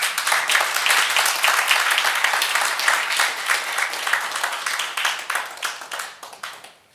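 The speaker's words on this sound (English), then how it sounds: "We need to clap mightier than that." Audience at a gathering in a Juba hotel applauds loudly and steadily, a dense crowd of clapping that stays full for several seconds before tapering off at the end.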